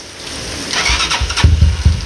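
A cold 250Z motorcycle engine cranks and catches, then breaks into uneven rapid firing pulses that build in loudness over about two seconds, heard close and alone.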